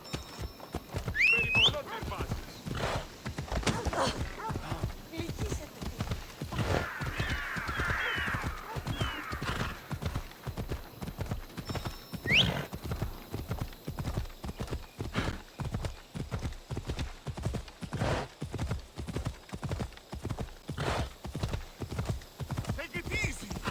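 A horse in Assassin's Creed Odyssey gallops with a steady, rapid clip-clop of hooves that carries on throughout, joined by an occasional neigh and some faint bird caws, while a voice speaks over part of it.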